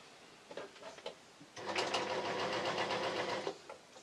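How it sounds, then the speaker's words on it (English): A serger loaded with multicoloured thread stitches the side and shoulder seams of a T-shirt hoodie, a few short taps and bursts first, then one steady, close, continuous run of rapid stitching that stops abruptly, with no voices. "I'm going to sew up the sides first and the top shoulders"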